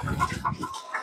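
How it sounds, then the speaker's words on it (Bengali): Hens clucking in short bursts with some flapping and rustling, fairly close, with a few overlapping calls before a brief quieter gap. "মুরগি একটা মানে বাইরের লোক ঢোকার কারণে এখানে কিন্তু অনেক দাফাদাফি করে"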